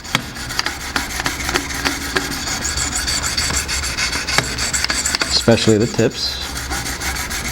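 Jende Reed knife blade being sharpened on a Wicked Edge sharpener, rhythmic scraping and rasping strokes of the stone along the edge, close and uneven in loudness, with a brief spoken remark.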